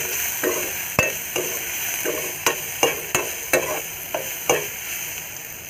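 Mustard seeds crackle and fry in a pan while being stirred for vamakutho rice, a steady sizzle broken by about ten sharp spoon scrapes and pops at a loose rhythm, close and fairly loud.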